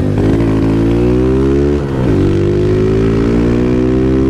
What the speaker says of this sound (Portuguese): a moto tá dando umas falhadinhas.